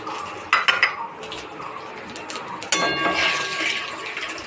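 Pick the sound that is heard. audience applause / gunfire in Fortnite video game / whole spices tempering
whole spices tempering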